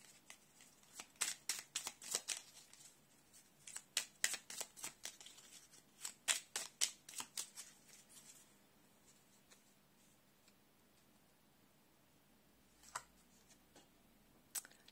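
Oracle cards with a fairy theme being shuffled, a quick run of crisp riffling and flicking bursts for the first eight seconds, then quiet with a couple of light taps near the end.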